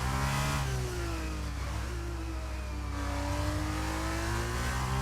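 An F2 race car in a racing video game at the Circuit of the Americas, its engine droning loudly and steadily as the driver gets on the throttle, pitch sliding through gear changes.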